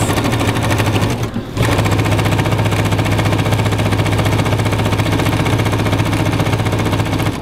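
A Bernina sewing machine with a binding tool stitches quilt binding in a loud, fast, steady mechanical whir that pauses once briefly before running on continuously.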